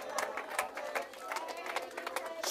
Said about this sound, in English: Let's give him a clap offering this evening.